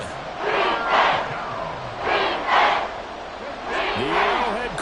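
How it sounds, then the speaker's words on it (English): The crowd at Arrowhead Stadium roars during a football game in loud, swelling waves that rise and fall roughly every second or so, with a commentator's voice faintly audible beneath the noise. "The Arrowhead crowd in full roar."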